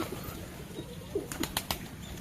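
A pigeon is grabbed by hand at a loft, with a few sharp bursts of wing flapping and faint soft coos against a quiet background.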